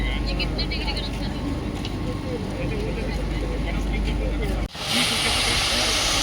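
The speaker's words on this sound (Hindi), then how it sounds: "ये पानी गिर रहा है, देखो यहाँ पानी ठंडा होता है" Water pours down steadily inside a cooling tower at the Satpura coal-fired thermal power plant, a dense, loud hiss throughout that briefly dips and then swells brighter, while someone talks over it.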